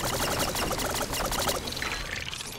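Water pours steadily in the Dome Keeper mining game, a continuous bubbling gush with a dense, splashy texture that continues at a steady level from start to finish.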